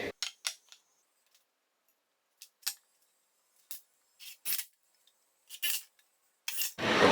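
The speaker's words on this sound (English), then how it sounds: "Now we'll just loosen the clamps." Clamps being loosened on a simple wooden sawhorse give a series of short, scattered metallic clicks and rasping scrapes, close and fairly quiet, with a louder scrape at the end.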